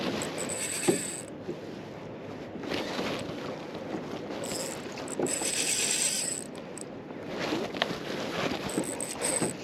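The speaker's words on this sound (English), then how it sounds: "The drag makes the fish sound better." Fishing reel drag buzzes and clicks in rising and falling bursts as a snapper pulls line on a boat in Port Phillip Bay, close and continuous over water and wind noise, with no talk.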